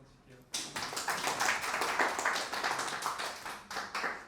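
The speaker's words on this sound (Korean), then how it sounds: "박수 한번 칠게요." Clapping from the audience at the close of a live Flutter coding session, starting abruptly after a moment of quiet and continuing as a brief, moderately dense round of applause from a modest group.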